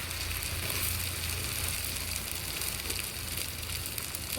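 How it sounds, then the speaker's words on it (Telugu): Onion and green chilli pieces frying in a pan over a wood-fired stove, a dense, even hiss of sizzling oil that stays steady and close throughout, with no voices. "ఉల్లిపాయ ముక్కలు పచ్చిమిరపకాయ ముక్కలు చక్కగా వేగిన తర్వాత"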